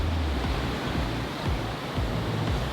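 Strong tidal current rushing near the Saltstraumen maelstrom in Bodø, Norway: a loud, continuous roar of churning water with low surging pulses, steady and close, with no voices.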